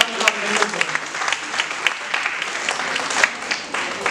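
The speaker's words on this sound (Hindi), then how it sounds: "मुद्रा क्लब के सभी छात्रों के लिए एक बार फिर से जोरदार तालियों के साथ" Students of the Mudra club receive audience applause at an Independence Day celebration, a dense, steady wash of clapping with some sharper claps, and a faint voice audible underneath.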